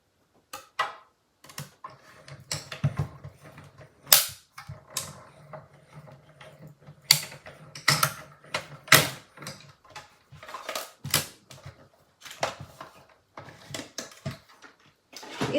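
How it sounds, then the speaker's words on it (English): A mini Stampin' Cut and Emboss machine is cranked by hand through card stock, giving a series of irregular mechanical clicks, ratcheting creaks and knocks at close range in an otherwise quiet room, with no voice. "let me grab my little handy dandy mini Stampin' Cut and Emboss machine."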